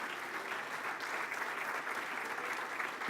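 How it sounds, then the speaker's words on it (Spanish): Steady, dense applause from a large church congregation, continuous and even throughout with no voices standing out. "Denle un aplauso al Señor."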